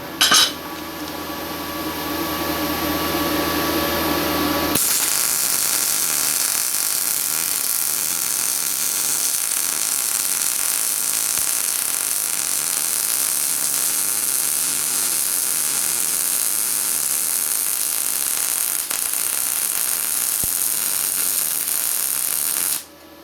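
A Yeswelder 205DS wire-feed welder runs on aluminum, a loud, steady crackling hiss that carries on unbroken for about eighteen seconds after a short lower hum, then cuts off.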